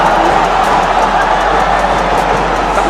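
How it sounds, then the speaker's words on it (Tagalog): A basketball crowd at a Letran game roars in a dense, sustained wash of cheering, loud and steady throughout with no clear breaks. "The crowd erupts once again."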